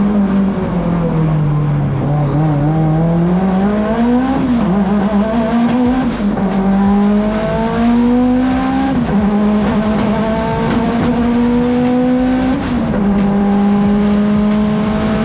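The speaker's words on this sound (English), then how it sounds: "This is a 4-cylinder making over 700 horsepower," CSF-sponsored Mitsubishi Evo X time attack car, a 700 hp four-cylinder, driving at Global Time Attack at the 2021 Long Beach Grand Prix: a loud, close engine note rising and falling through gear changes, sustained throughout.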